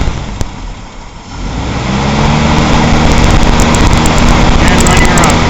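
Car engine fresh from exhaust-leak repairs rises from a quiet idle into a loud, steady rev as the throttle is cracked, outdoors on a cold winter day of about 5 °F, with a couple of faint clicks early on.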